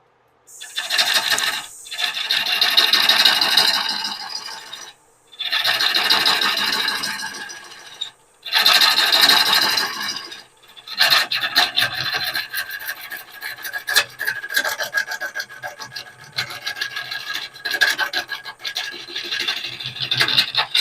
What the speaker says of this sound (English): I've got my lathe on the slowest speed setting.